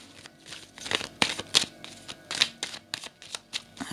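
Tarot cards being cut and shuffled close up, quick papery riffles and slaps in irregular bursts, crisp and fairly loud with no talk.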